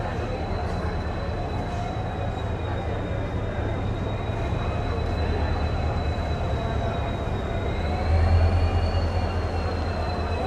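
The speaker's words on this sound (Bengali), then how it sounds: "22 নম্বর প্ল্যাটফর্মে ঢুকছে 1239 হাওড়া চেন্নাই মেল।" The Howrah–Chennai Mail rolls into a platform at a busy station with a loud, steady rumble of wheels on rails, a thin metallic squeal drawn out above it, and a heavier surge near the end.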